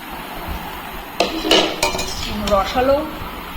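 Mihidana, a syrup-soaked sweet of fine grains, is tipped out of a pot onto a plate, giving a run of scrapes, knocks and clinks of metal on dishware at close range, with no talking.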